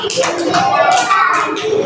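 Young children clapping along in a Hindi action song, rhythmic hand claps under continuous children's singing, close and loud.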